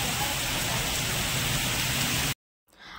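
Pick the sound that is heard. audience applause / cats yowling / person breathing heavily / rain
rain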